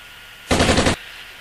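A short machine-gun burst sound effect for a muzzle flash: loud, close rapid-fire shots lasting about half a second, then abrupt quiet.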